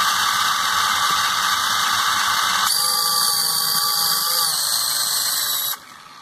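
A high-pitched drone motor whine, slightly noisy from damage, buzzes steadily with a rough, drill-like edge, shifting slightly in tone before cutting off abruptly near the end.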